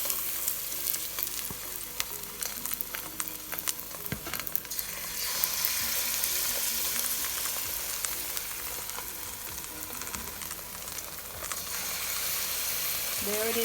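Banana fritter batter for Jamaican banana fritters frying in a pan over low heat, a steady close sizzle with occasional clicks and scrapes, getting brighter after the mixture goes in.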